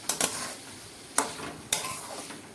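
Dry ridge gourd curry with ginger paste is stirred in a pan, with a few sharp clinks and scrapes of the utensil against the metal over a faint sizzle.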